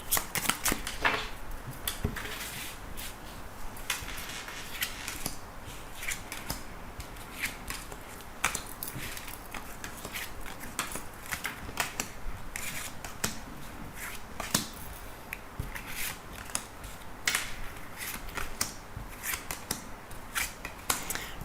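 A deck of cards shuffled and drawn for a reading, a dense run of crisp riffling snaps and flicks continuing steadily and close-up for about twenty seconds, with no voice.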